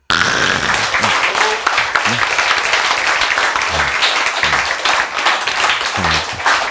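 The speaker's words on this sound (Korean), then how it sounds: "박수!" A crowd applauding steadily, a dense wash of clapping that holds for several seconds with some voices mixed in.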